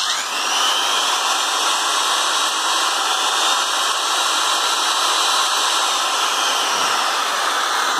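A used Japanese 100V handheld electric drill, rated 380 watts and 1250 rpm, runs continuously at full speed with a loud, steady high-pitched motor whine and no talking.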